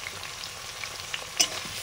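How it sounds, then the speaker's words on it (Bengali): Eggplant pieces fry in oil for a fish curry, a close, even crackling sizzle with a brief louder pop or stir near the end. "লোটে মাছের রান্নার জন্য বেগুনগুলো প্রথমে ভাজবো।"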